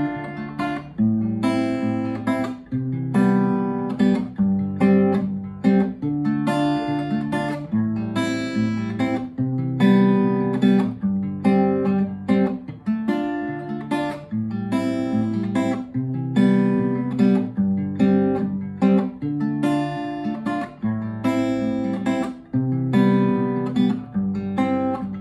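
Electric guitar plays a repeating riff built from open strings, cycling steadily and evenly at a moderate tempo with clear picked notes and no voices.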